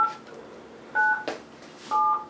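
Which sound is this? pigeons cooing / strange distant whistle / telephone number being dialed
telephone number being dialed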